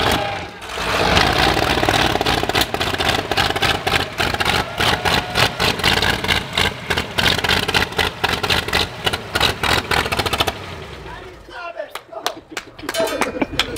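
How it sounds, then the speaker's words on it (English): A Cadillac 500 V8 that sat unused for decades roars loud and close, revving hard with a rapid pulsing beat for about ten seconds, then drops away into quieter rumbling as the throttle falls off. "It was revving up like a Harley"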